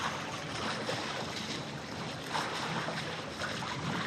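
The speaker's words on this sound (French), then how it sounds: "Il n'y a que le vent de la vitesse de notre catamaran" Steady rushing wind on a moving catamaran buffeting the microphone, with a faint hiss of water and motion beneath, continuous and fairly loud throughout.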